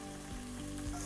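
Meat browning in a pan for a Gaziantep-style şiveydiz, giving a steady close sizzle and crackle that fills the short moment with no talk.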